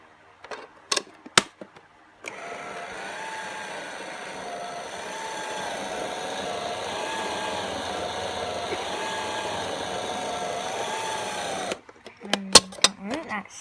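A toy washing machine runs with a steady, wavering mechanical whir for about ten seconds, bracketed by a few sharp clicks and knocks before and after.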